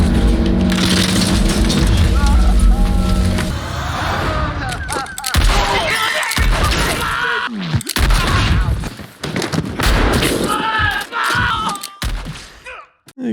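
Gunfire and crashing impacts from a Django Unchained shootout scene, loud and dense, with bursts of shots and booms. Excited voices react over the top of the chaos.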